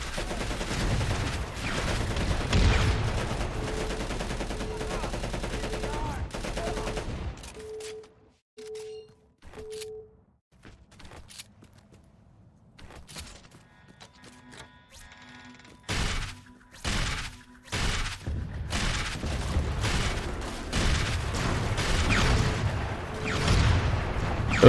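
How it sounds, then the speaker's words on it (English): Grenade launcher blasts and gunfire in Crackdown 2 on Xbox 360, loud bursts of shots and crashing explosions at the start and end, with a quieter stretch of scattered hits and tones in between. "this is why the fucking grenade launchers are a huge problem"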